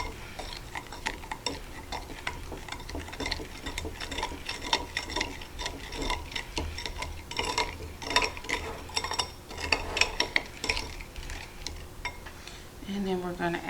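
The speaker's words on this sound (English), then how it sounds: "gotta mix that all around" Sticky bun ingredients get stirred around in a bowl, with quick repeated clinks and scrapes of a utensil against the dish, near and busy, ending with a short bit of voice.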